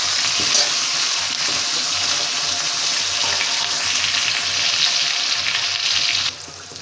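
Tomatoes and green chilies fry in a pan as a dense, even sizzle with soft stirring underneath, holding steady before dropping away abruptly near the end.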